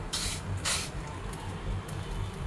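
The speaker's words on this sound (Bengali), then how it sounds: "আমরা এখন তেলটা দিয়ে দিচ্ছি এটার উপরে" Oil sizzles onto a paratha frying in a pan, a close hissing spray with two louder bursts of crackle over a steady low frying sizzle.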